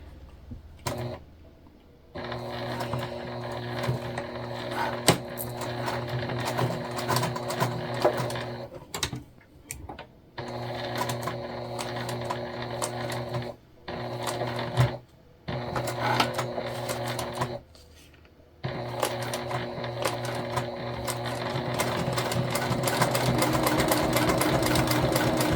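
A domestic sewing machine stitches fabric in several long runs, each a fast, even mechanical whir and patter, separated by short quiet pauses and a few clicks, heard close up.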